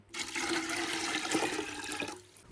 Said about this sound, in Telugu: చింత పులుపు వాటర్ కూడా కలుపుదాం